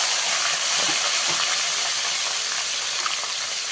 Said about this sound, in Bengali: ওই কাঁটা ভাজা তেলের মধ্যে আমি মাছের তেলটা দিয়ে দেবো